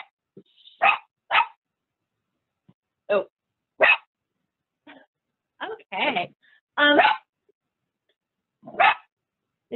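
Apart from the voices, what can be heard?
dogs barking in a played video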